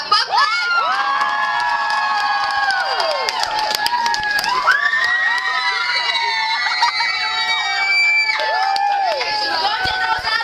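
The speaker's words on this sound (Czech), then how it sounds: "Potlesk!" A crowd at a Halloween fan meeting in Bratislava cheers, whoops and shrieks for a Czech singer being introduced, mostly high-pitched young voices in loud, continuous excitement.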